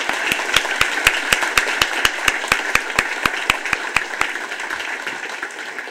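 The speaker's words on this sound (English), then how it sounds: "Again, another round of applause for the people who built this building." Audience applause at a middle school building dedication, with a crowd clapping together in a strong, regular rhythmic beat, loud and sharp, continuing for several seconds before loosening into an uneven patter.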